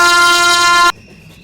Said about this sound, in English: Make sure you honk repeatedly to alert the workers.